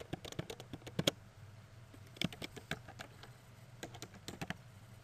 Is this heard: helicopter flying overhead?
no